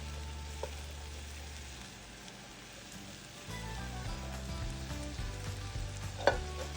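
Onions fry in butter in a pot, a steady soft sizzle with faint crackles and a stirring clink near the end, close and fairly quiet with no talk.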